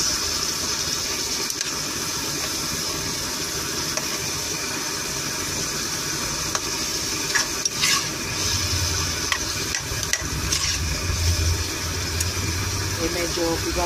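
Tomatoes being pressed and cooked in a pot for sinigang na bangus, giving a steady low sizzle and stirring scrape throughout, with soft knocks and a few louder clatters near the end.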